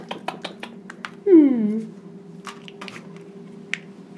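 Plastic snap-on cast on a toy veterinarian doll set clicking on and off, several sharp little snaps spread across the moment, with a short voiced sound in the middle.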